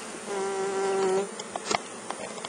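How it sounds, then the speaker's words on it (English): Honeybees drone in a steady, close buzz for about a second during a beehive inspection, then fall away to quieter scattered buzzing and light handling noises. "these bees will glue together everything with the propolis and the resin and such"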